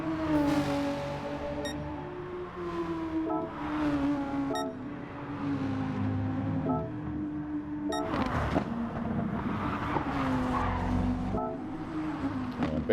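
Race car in a GT Cup racing video game at Mount Panorama at night, its engine droning and shifting pitch with tire squeal, then a harsher burst of noise as it locks up and slides into the wall.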